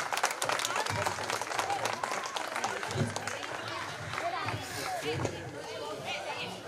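Clapping from a gathered audience at a local event, a broad steady patter of many hands continuing throughout, with voices and chatter mixed underneath.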